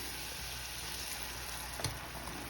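Onion strings frying in hot oil make a continuous dense crackling sizzle, like rain on a surface, close and steady with one brief clack of stirring.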